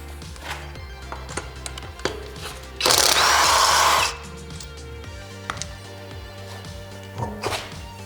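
Taking the wheel off an Infiniti G37 brings scattered metallic taps and thunks, then a short, loud burst of an air impact wrench whirring on the lug nuts, followed by more knocks and clanks close by.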